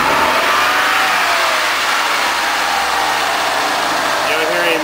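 A car engine idles steadily right after a spark plug change, a loud continuous hum close to the microphone with a slight rise in pitch toward the end and no talking over it.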